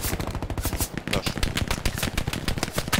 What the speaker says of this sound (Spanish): No paren de dispararme.